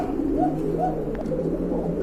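A big pair of pigeons coos softly at close range, low rounded calls repeating every half second or so over a steady background murmur.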